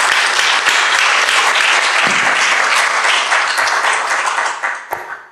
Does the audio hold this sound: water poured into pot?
no